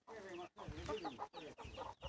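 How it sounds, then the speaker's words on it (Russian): Backyard chickens and a rooster cluck in short bursts, several quick calls separated by brief pauses, close by and fairly soft. "Так, а что у нас тут курочки делают?"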